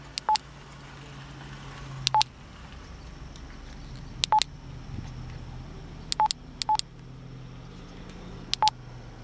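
Keypad beeps while programming a Wouxun KG-UV8D handheld radio, short clean tones in quick pairs and triplets separated by pauses, over a quiet room background.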